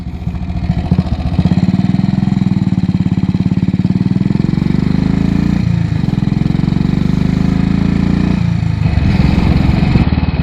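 A 1947 Matchless G3/L motorcycle engine running on a local ride, a loud, close single-cylinder thump that rises and falls in pitch as the rider accelerates and shifts, continuous throughout with steady throb.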